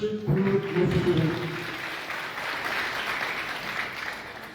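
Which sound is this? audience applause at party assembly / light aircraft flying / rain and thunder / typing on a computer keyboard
audience applause at party assembly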